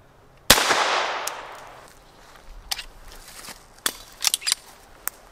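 Child firing a pistol in a practical shooting session: one sharp, loud report with a decaying tail, followed by several fainter clicks and taps of handling.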